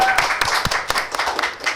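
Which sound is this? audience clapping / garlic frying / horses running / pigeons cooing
audience clapping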